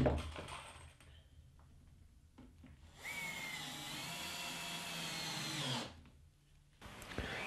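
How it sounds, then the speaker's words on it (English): A power drill drives screws into timber while a classic workbench is assembled, giving a steady whirring run of about three seconds after brief handling noises, with a short burst at the end. "Then they're screwed together, making sure the screws are all well countersunk in."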